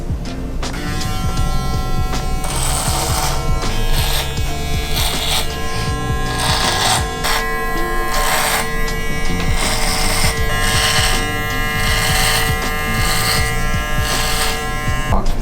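Electric hair clippers buzz continuously while trimming a beard and tapering the sideburns into it, a close, loud whirring drone that pulses slightly as the blades move through the hair.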